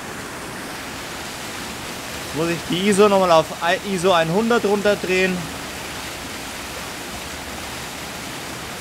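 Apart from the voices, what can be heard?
waterfall in the snow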